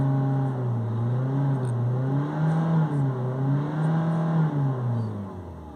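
A Peugeot 5008 with a 1.5 HDi diesel engine and a particle filter fault runs at raised revs. It gives a steady, fairly loud drone that rises and falls gently several times as the throttle is held and eased.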